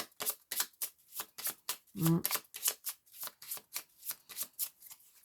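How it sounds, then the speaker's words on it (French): Tarot cards handled and laid out on a table, a steady run of close papery flicks and soft slaps in a quick rhythm, with a short burst of talking partway through. "Allez, je vais recouvrir certaines cartes."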